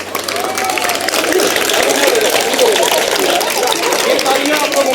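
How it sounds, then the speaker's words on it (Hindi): Audience clapping at a self-defence class held at F.C. College in Hisar City, a steady wash of applause lasting the whole moment with voices chattering underneath. "ये तालियां आप लोगों के लिए,"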